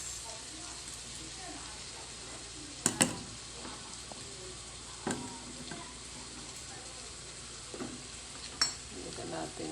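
Leftover potatoes fry in a pan with a little soy sauce, giving a steady close sizzle broken by a few sharp spatula scrapes and clanks, with a voice faintly in the background.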